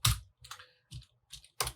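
Five quick, crisp keystrokes on a computer keyboard, typed at close range in an uneven rhythm with short silent gaps between them.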